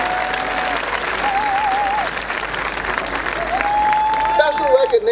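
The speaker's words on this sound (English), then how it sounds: "How about a round of applause for our dais?" Audience applause fills a university graduation ceremony, a dense steady roar of many hands clapping throughout, with a held whistle-like tone drifting above it and some voices mixed in.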